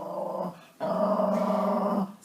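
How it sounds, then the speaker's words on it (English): A dog growls nearby in two low, rumbling bursts, the second longer, with a brief pause between them. "That's my dog, Bella."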